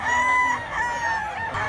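A rooster crows loudly and close at a chicken market in Mantalungon, Cebu, one long drawn-out call over steady background bustle.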